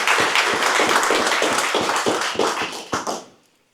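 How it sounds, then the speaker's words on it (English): Audience applause at an evening talk event: a burst of close, crisp hand claps that thins out and fades to silence near the end, with no talk over it. "another round of applause"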